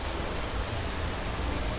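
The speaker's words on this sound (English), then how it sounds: "I didn't want the rain." Steady rain falls in Skyrim, a dense, even hiss of drops with no pauses and no voices.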